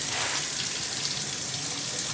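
Water rushing from an overhead shower head in a loud, steady spray, close and continuous with a full hiss and no voices.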